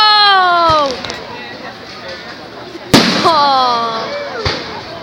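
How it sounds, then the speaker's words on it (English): Bonfire night fireworks explode outdoors in three sharp, loud bangs spread a few seconds apart, with whistling streaks and excited voices calling out between the blasts. "Fireworks have just started."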